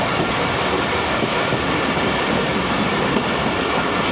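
The Karakoram Express, on the Lahore to Khan flood diversion route, rolls along the main line with a steady loud rumble of wagons and faint wheel clatter filling every moment, close and continuous.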